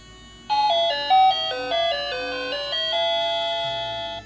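An electronic bell chime plays a short, bright melody of ringing tones, clear and close, then holds a final note.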